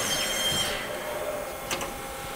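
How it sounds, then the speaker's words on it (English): A used Haas SL-10 slant-bed CNC lathe parting off a part as the parts catcher pops up: a steady mechanical hum and whine with a brief metallic clack near the end, heard close with no talk. "That'd be parting off your tool right now."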